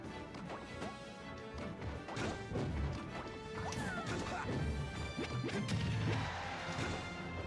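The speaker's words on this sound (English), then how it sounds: "That was up smash." Ike's up smash attacks land in Super Smash Bros Brawl, sharp crashing hits and whacks scattered over a busy layer of game music and effects, several impacts in quick succession with no speech.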